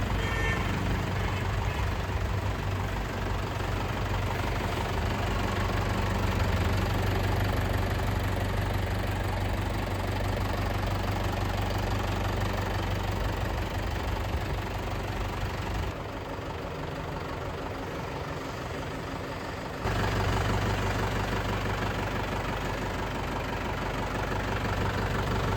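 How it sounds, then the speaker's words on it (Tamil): An Eicher 380 tractor's diesel engine idles with a steady, low, knocking rumble that holds for the whole stretch. It sounds close and even, with only a slight dip partway through. "இந்த டிராக்டர் பார்த்தீங்கன்னா ஈச்சரில் 380ங்க"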